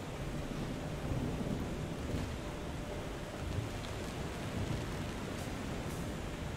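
Thunderstorm with heavy rain and wind in the game FAR: Changing Tides, a constant roaring downpour with low thunder rumble underneath, loud and unbroken, with no talking.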